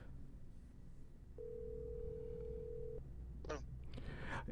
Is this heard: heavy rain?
no